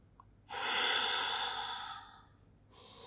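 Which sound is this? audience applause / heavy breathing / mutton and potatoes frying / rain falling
heavy breathing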